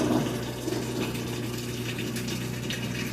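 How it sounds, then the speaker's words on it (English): A Whirlpool Amana top-load washing machine fills with water to wet down the clothes, a steady close rushing and gurgling flow with a low motor hum underneath, no talking. "We got water going in, and what it tries to do is wet down the clothes really good"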